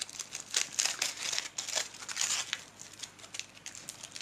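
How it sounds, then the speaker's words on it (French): A paper drawing page is crumpled by hand in a series of crisp, crackling scrunches, close and fairly loud, coming in irregular bursts with no talking. "Mais je peux aussi très bien froisser ma page."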